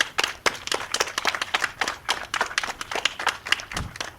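A crowd applauding, with scattered hand claps in an irregular patter that carries on steadily, moderately loud.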